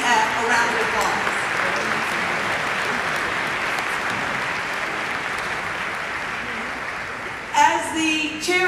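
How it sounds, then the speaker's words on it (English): Audience applause at a Congressional Black Caucus installation ceremony, a sustained steady roar of many hands clapping together, with a voice coming in briefly near the end. "Can we please give the wonderful staffs, our members, as well as the CBCF, a round of applause?"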